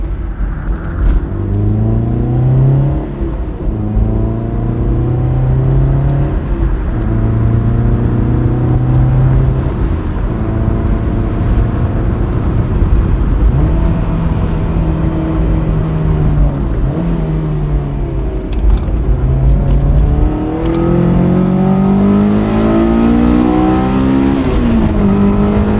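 A 2001 Honda S2000 on Fortune Auto 510 coilovers drives steadily, its engine note rising and falling through gear changes with sustained harmonic drone and road rumble, loud and close throughout with no talking.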